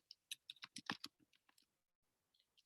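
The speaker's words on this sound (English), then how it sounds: "I'm just typing it for you guys." Quiet typing on a computer keyboard during a lecture, a quick flurry of light key clicks that thins to scattered taps after a brief pause.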